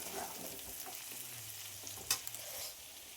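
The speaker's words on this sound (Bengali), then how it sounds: "হচ্ছে ফুলকপি, আলু, লঙ্কা, কালো জিরে দিয়ে ভাজা।" Cauliflower, potato, chili and nigella seeds frying in a pan, a soft continuous sizzle with a few stirring clinks, quiet and close.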